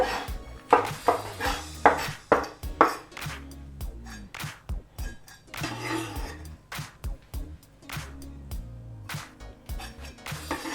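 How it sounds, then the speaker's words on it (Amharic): A knife chops onion on a board while a tuna sandwich is being made: a run of close, sharp knocks in quick irregular bursts, with a few pauses and lighter taps between. "ሽንኩርቴን ከትፋለሁ"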